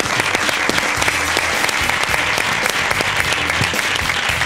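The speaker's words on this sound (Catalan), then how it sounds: "Llorenç González, fort aplaudiment" Loud, sustained applause from a Catalan television studio audience welcoming a guest, a dense, steady roar of clapping with no voices over it.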